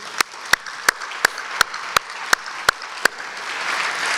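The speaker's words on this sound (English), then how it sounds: "And just another round of applause for all of these folks who have made so much of their experience at Columbia." A run of sharp, evenly spaced claps, about nine in steady rhythm, with a hiss of crowd noise swelling toward the end, from an audience at a university startup event.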